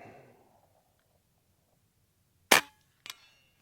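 A Karma SLS air rifle fires a slug with one sharp, loud crack, followed half a second later by a fainter, shorter report, after near silence.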